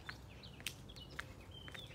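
Several brief, high bird chirps spaced through a quiet outdoor scene, faint and somewhat distant, with no one talking.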